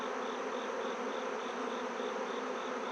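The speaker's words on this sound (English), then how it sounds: "There's a pile of bees here." Honeybees buzz in a dense, continuous drone at an open hive during an inspection, close and steady with no voices over it.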